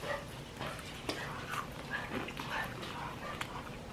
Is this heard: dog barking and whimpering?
yes